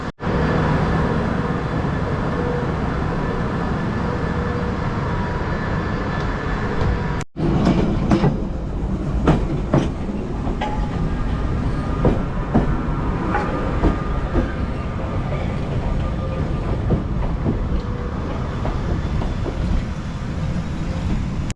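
A London Underground Piccadilly Line train runs loudly and continuously with steady rumble and rhythmic clatter, a brief dropout near the start, then carries on close by without any talk.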